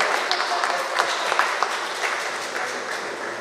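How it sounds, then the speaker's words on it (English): Audience applause at a community police gathering on domestic violence in Tableland, a steady, moderately loud patter of many hands clapping throughout, with no talk over it. "Give me a round of applause."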